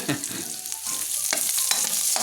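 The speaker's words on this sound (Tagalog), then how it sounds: "Ang bango talaga kapag nagigisa ka. Hintayin lang natin mga golden brown. Sibuyas." Onions sautéing in a pan, a dense hissing sizzle with scraping stirs of a spoon at irregular intervals, close and moderately loud, with no talking.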